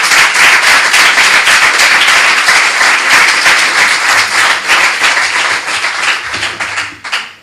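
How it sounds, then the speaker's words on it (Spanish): Loud, sustained applause from an audience at a university seminar, dense clapping throughout that thins and fades toward the end. "Yo os pediría un aplauso"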